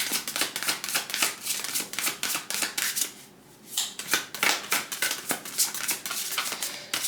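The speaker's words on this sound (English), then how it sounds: "So I did a pre-shuffle" A deck of tarot cards is shuffled by hand in quick, crisp riffling bursts, close and clear, with a short pause midway before the rapid flicking resumes.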